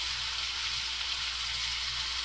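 Onions sizzling and frying in a pan while being mixed, a steady close hiss with no talking.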